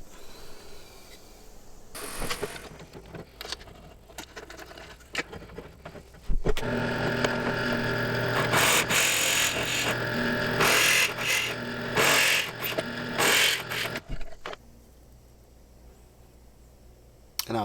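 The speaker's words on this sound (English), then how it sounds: "I'm going to do that real quick with a simple plug cutter" A plug cutter bores walnut plugs, with a soft ramp-up and then loud, grinding, uneven cutting bursts that fade back to quiet near the end.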